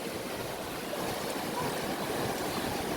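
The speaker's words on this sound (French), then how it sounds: "ça fait des petites vagues" Small waves wash steadily onto a beach in a broad, continuous surf hiss, with wind buffeting the microphone and no voices.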